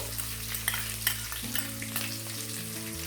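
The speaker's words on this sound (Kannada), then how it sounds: "ಇವೆಲ್ಲ ಎಣ್ಣೆಯಲ್ಲಿ ಚೆನ್ನಾಗಿ ಫ್ರೈ ಆಗಬೇಕು." Ginger, garlic, onion and green chillies fry in oil for avarekalu chitranna, a steady close sizzle with light stirring scrapes and a low hum that drops away midway.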